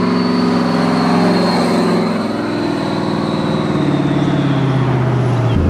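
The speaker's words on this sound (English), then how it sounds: "this clip is just normally driving by with the cutout open" Loud, close pass of a 1000-horsepower turbocharged Pontiac Trans Am with its exhaust cutout open, a deep rumbling exhaust drone with rising and falling pitch plus a high turbo whistle, sustained for several seconds.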